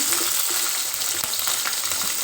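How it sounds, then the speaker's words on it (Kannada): Steady, dense crackling and spitting of mustard and cumin seeds in hot oil with curry leaves and green chillies, a close continuous splutter with no voices. "ಸಾಸಿವೆ ಜೀರಿಗೆ ಚಟಪಟ ಅಂದಿದೆ"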